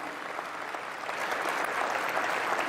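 An audience at an NBA legends awards event applauds in tribute to the late Kobe Bryant, a dense, sustained wash of clapping that holds steady and swells slightly toward the end, with no speech over it.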